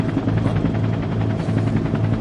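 A helicopter in flight during an action thriller film scene, its rotor beating in a steady, loud, close thump throughout, with no talk.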